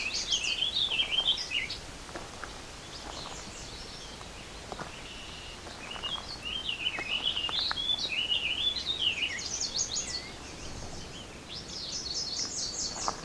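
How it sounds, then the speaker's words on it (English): A yellow warbler sings repeated bright, high warbling phrases at moderate distance in open habitat with a few trees, over a steady outdoor background hiss. "It's our yellow warbler."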